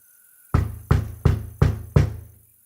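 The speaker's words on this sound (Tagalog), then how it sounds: "narinig ko na ang katok ni ate sa labas" Five loud, evenly spaced knocks on a house door from outside, each a sharp thud with a short decay, in a quiet room with no talk.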